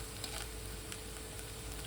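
Onion with salt being stirred and fried in a pan, a soft steady sizzle with faint stirring scrapes, quiet and close, no voices.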